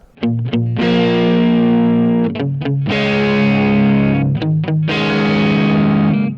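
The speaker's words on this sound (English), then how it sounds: "So that bridge goes like this." A heavily distorted electric guitar plays the bridge riff of Robin Trower's "The Shout", a chugging riff with short choppy stabs between sustained, saturated power chords, loud and close.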